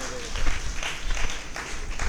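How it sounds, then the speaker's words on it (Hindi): Audience clapping at the closing ceremony of a balwadi teacher-training camp run by Akhil Bharatiya Dayanand Sevashram Sangh, a steady, moderately loud patter of many hands filling the room with a faint voice mixed in. "सभी से निवेदन की तालियां बजाकर इनका उत्साहवर्धन करें।"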